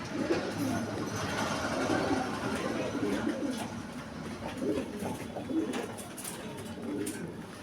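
A male pigeon cooing in soft, repeated low throaty calls, close but fairly quiet, with faint bird chirps and background noise around it.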